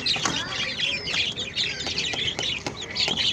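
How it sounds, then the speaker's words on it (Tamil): A rooster clucks repeatedly up close on a Chennai rooftop, throaty calls coming in quick bursts as it pecks at a person's leg, with faint taps and scratches between them. "கீழே பாருங்கள் கீழே நம்ம சேவல் வந்து காலை பிடிச்சி கொத்துறாரு"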